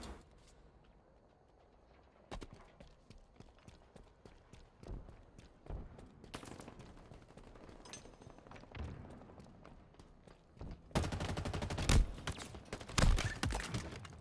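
Video game weapon fire, a loud burst of rapid sharp shots near the end following scattered thuds and softer impacts, with no talking.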